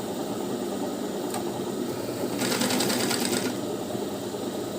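A sewing machine runs steadily while stitching a blouse lining, its motor hum continuous throughout and growing louder and busier for about a second in the middle, with no voices.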